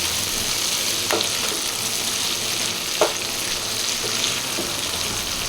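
Seasoned green beans sizzling steadily in a hot pan while being stirred, a constant loud fry hiss with occasional soft utensil taps.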